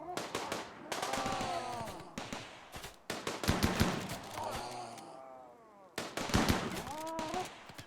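Turret gunfire in a Rimworld desert base defense battle, with bursts of rapid shots and impacts crackling across the scene, interrupted by brief pauses and layered with game effects, loud and busy throughout.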